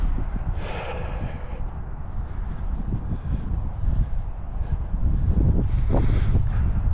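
Cold wind blows outdoors at a cemetery, a steady low rumble buffeting the microphone throughout with stronger gusts swelling near the start and end, and no speech.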